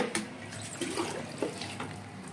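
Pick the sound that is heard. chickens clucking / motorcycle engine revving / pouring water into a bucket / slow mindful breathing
pouring water into a bucket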